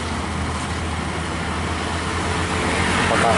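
Steady road traffic roar with a bus and a truck rumbling past close by, a continuous broadband wash of engine and tire noise.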